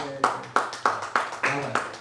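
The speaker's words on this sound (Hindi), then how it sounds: "जब वाले साहब ताली बजाए" Clapping at a studio grand opening: six crisp claps in a steady, evenly spaced rhythm, close and fairly loud, each ringing briefly before the next.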